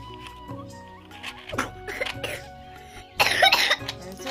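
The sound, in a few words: coughing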